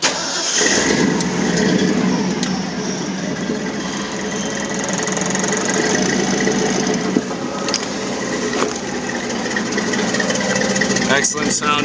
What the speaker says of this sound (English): Excellent sounding dual exhaust.